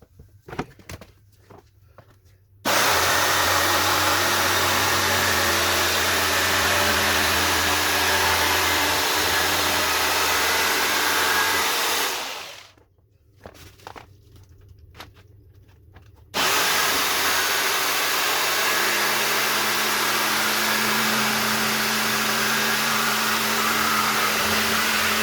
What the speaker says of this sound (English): I'm going to use my jigsaw to cut this